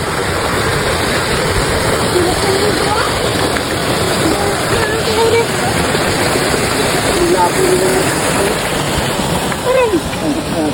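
A waterfall at a swimming spot pours as a constant broad roar, loud and unbroken throughout, with voices faintly underneath.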